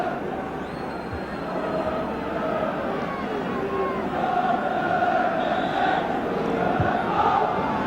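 A large football crowd at Sunderland v Ipswich in 1983 roars with a steady, dense, angry noise that fills the stadium and continues unbroken throughout.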